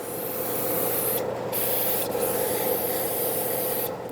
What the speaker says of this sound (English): hit it with a little bit of brake parts cleaner to rinse it off.